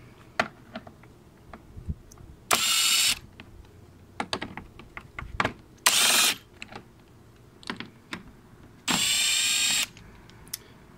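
Power tool driving out T30 Torx screws on a BMW during xenon headlight and ballast replacement: three short loud whirring bursts separated by quiet clicks and handling noises, close up.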